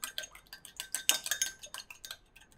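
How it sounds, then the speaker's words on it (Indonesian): A single egg whisked in a bowl for a chicken pie glaze, quick rhythmic clinking taps of utensil against the bowl, close and bright, with no voices. "Kocok lepas satu telur."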